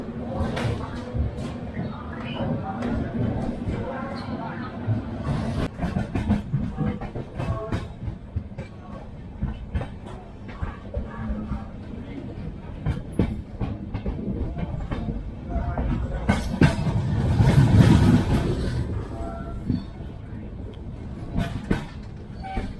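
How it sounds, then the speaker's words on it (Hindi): Mewar SF Express pulling out of Mathura Junction, its wheels clattering in a steady, loud rhythm over rail joints with continuous rumble building toward the end. "ये इसका डिपार्चर, और ट्रेन 5 मिनट लेट चल रही है मथुरा जंक्शन से।"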